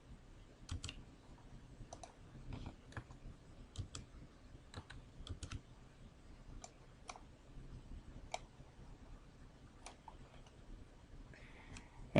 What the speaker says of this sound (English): We'll type the run numbers in the first column.